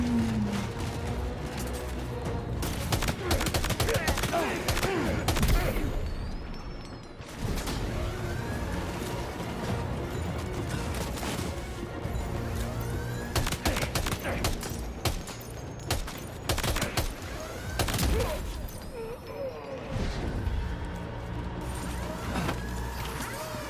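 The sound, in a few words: gunfire from the Death Stranding 2 video game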